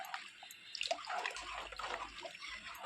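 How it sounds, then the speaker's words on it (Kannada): Two cups of water are poured into a pot of rice while making beetroot rice, giving a soft, steady splashing trickle. The sound is faint and nearby, with no voices. "2 ಲೋಟ ನೀರು ಹಾಕ್ತಿದ್ದೇನೆ."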